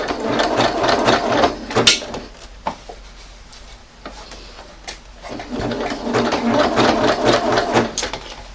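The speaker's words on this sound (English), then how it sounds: "I will use it the zigzag and stretch the elastic at the time we were sewing." A sewing machine zigzag stitches stretched elastic onto a fabric bowl cover, its rapid mechanical whirring and ticking running close and loud in bursts, with a brief pause in the middle before stitching resumes.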